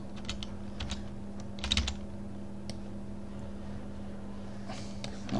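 Computer keyboard shortcut keys pressed while editing in After Effects, a few scattered clicks and taps over a steady low hum, close and fairly quiet, with a brief louder cluster of presses near the middle.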